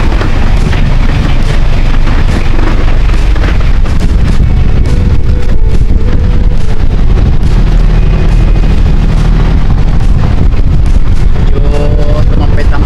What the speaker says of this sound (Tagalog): Medyo tumampay-tampay ng bahagyang hangin mga guys.